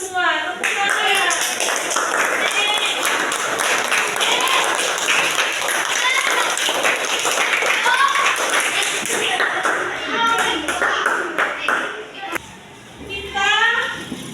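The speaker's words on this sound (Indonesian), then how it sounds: "Tepuk tangan." Children in a primary classroom break into rhythmic applause, clapping together loudly and close for several seconds, with voices calling and chattering over it. The clapping thins out near the end.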